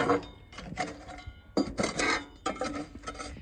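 A tool scrapes wood stove ash across a metal grate in repeated rough, rasping strokes with short pauses between them. The scraping is close and fairly loud, with no talking.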